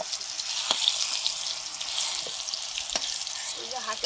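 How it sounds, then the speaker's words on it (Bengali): Parshe fish frying in mustard oil, a steady close hiss of sizzling with a few sharp pops and light clatter, no talking. "সরষের তেল দিয়ে দিলাম পার্শে মাছগুলো ভাজবো"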